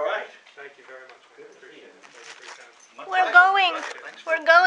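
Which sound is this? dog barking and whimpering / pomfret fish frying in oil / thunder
dog barking and whimpering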